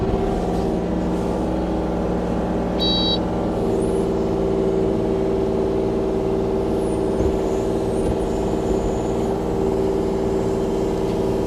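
A 2020 Kubota KX033-4 mini excavator runs steadily up close, its engine droning with a constant low hum while hydraulic whine shifts slightly as the machine works, with a faint short beep early on.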